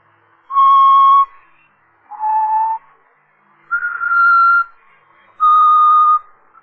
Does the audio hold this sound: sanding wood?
no